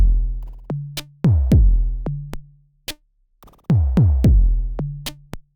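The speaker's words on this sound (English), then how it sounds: "So I've loaded up my convolution reverb plugin on a drum loop," Drum loop through a convolution reverb plugin, dry at this point: punchy kick and snare hits with short ticking percussion in a clipped, stop-start pattern, each hit decaying quickly into silence.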